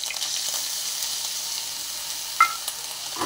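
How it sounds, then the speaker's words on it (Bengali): Garlic and ginger paste frying in hot oil in a pan, a steady close sizzle with brief scraping from stirring, no voices. "রসুন আর আদা বাটাটা দিয়ে ভালো করে একটু নেড়ে নিই।"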